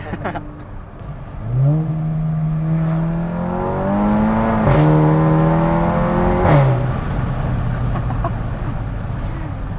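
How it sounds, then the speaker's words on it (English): A tuned 380 hp Mk7 Volkswagen GTI revs and climbs through gears, with sharp pops and cracks from its DSG gearbox at each shift, loud and close, with faint voices underneath. "the exhaust is awesome. It's not necessarily loud, like the actual note isn't loud. It's just the DSG noises are ridiculous"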